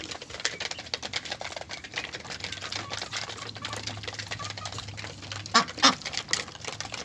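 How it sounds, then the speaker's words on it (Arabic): Ducks drinking from a wide water dish, with soft wet dabbling and splashing throughout, a low steady hum in the background, and two louder quacks near the end. "البط بيوسع لما بيجي يشرب بيوقع المية بره"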